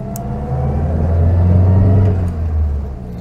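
A 1951 Citroën Traction Avant 11 Normale pulls away, its engine giving a steady, close mid-pitched drone that rises slightly as it accelerates, with no talking.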